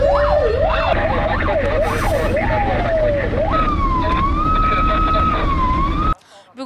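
A loud, close ambulance siren sounds on a moving emergency vehicle in Kyrgyzstan. Rapid rising-and-falling wails shift into a slower, steadier tone, which stops sharply near the end.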